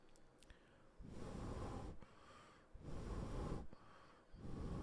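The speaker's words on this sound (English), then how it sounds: "I breathed in the mic more for you." Heavy breaths blown straight into a microphone, three loud rushing exhales in a slow rhythm separated by short pauses, close and unvoiced.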